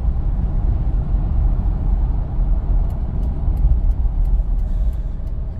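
A restored Lexus LX470 cruises along the road with a steady, loud low rumble of engine and tyre noise inside the cabin, plus a few faint ticks.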